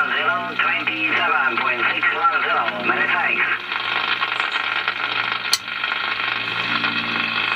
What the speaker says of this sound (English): I just think that PLT noise is just a little bit too strong for this filter